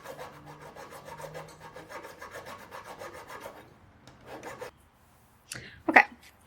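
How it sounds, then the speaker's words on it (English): A saw rasps steadily through a wax ring blank in quick, even back-and-forth strokes for about four seconds. After a pause come a few scraping strokes and a sharp, louder clunk. "Typically I would do it on the edge of my desk"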